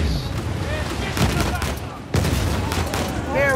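Gunfire in Uncharted 4: A Thief's End crackles in rapid bursts with heavier booms, a dense barrage running through the passage while a player's voice talks over the fighting.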